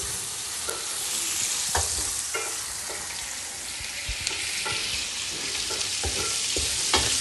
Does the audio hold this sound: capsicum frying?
yes